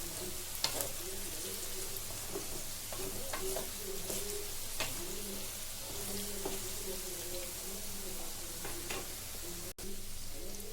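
Mango pieces for a sweet jaggery pickle frying in a pan, a steady faint sizzle with soft scraping and stirring taps, no talking.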